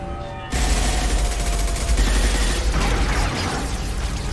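Dense, sustained gunfire in the video game Mass Effect 2, with rapid overlapping shots and mechanical clatter starting abruptly and continuing loud and continuous throughout.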